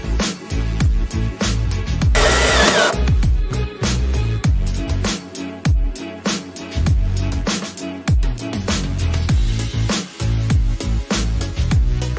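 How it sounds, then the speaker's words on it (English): A loud power drill whirs in repeated bursts, drilling out spot welds in the metal body of a salvage Nissan GT-R, with short pauses between pushes. "drilled out all these spot holes just there"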